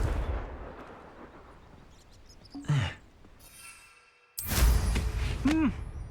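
Confringo fire-spell blasts in the Hogwarts Legacy video game: two sharp explosive bursts, one near the middle and a louder one later, each followed by a brief rising whoosh, over a low rumbling game background.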